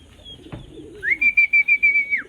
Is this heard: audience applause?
no